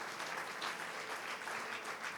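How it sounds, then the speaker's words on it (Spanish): A church congregation gives a round of applause to God during a sermon on the Lord's Supper, a steady, moderately loud patter of many hands clapping in a reverberant room. "Un aplauso para Él."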